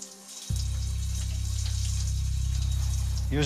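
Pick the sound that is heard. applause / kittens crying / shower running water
shower running water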